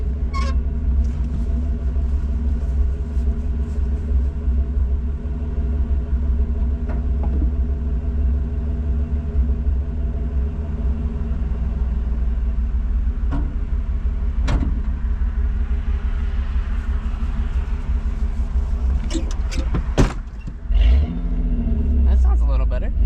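A Chevrolet S10 pickup engine idles and runs with a steady low rumble after a distributor adjustment, with brief mechanical clicks and a short louder burst near the end; no one speaks.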